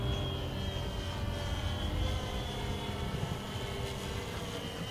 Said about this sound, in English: those contra-rotating propellers making some very interesting noises